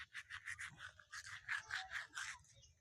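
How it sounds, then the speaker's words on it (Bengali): A toothbrush scrubs teeth in quick repeated back-and-forth strokes, a soft bristly scratching close to the mouth, with a low steady hum underneath and no talking. "আমি কিন্তু ব্রাশ করার সময় এমনভাবে বাইরে দেখি আর ব্রাশ করি"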